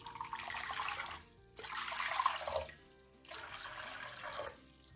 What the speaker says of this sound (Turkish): İlk olarak karıştırma kabımın içerisine 3 su bardağı ılık su ekliyorum.